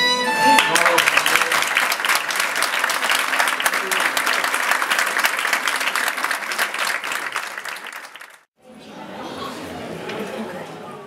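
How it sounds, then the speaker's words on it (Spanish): Street crowd on Calle Mayor in Caravaca bursting into loud, dense applause, with crowd chatter mixed in. The clapping fades briefly after about eight seconds, then a second, softer round of clapping rises again. "quiero que resuenen los aplausos como un tambor"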